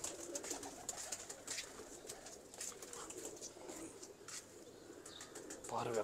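Pigeons coo softly while wings flap now and then, a faint, continuous flutter and murmur of birds nearby with scattered sharp clicks.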